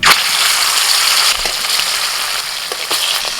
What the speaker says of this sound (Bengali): তেল গরম হয়ে গেছে, ওর মাছ ভেজে নেব।